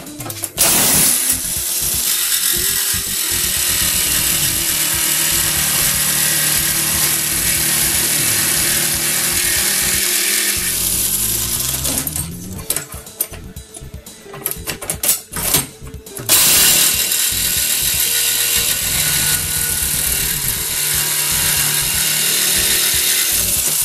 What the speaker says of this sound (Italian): vado avanti a segare di qua fino a qui in fondo